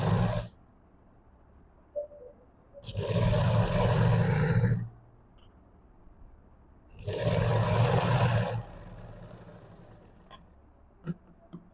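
A domestic sewing machine runs in two separate bursts of about two seconds each, stitching forward and in reverse on blouse fabric. The motor whirs steadily and close up, with quiet pauses between the bursts.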